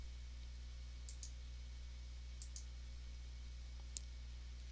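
Faint computer mouse clicks in software sound in a quiet room over a steady low hum, two quick double clicks and one single click near the end.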